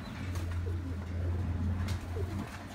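Shri breed pigeons coo close by in low, rolling calls, with a steady droning hum underneath throughout.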